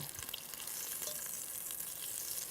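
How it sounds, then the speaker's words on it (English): Bacon sizzles and spits steadily in a hot pan, a dense close crackle with no voices over it. "Now I'm keeping an eye on the bacon because remember, the bacon actually will burn easily."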